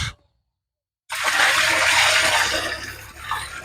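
After a second of silence, a loud gush of liquid pours steadily into a tank, sour cow buttermilk and water mixed for a homemade groundnut crop remedy, close and continuous with no talk.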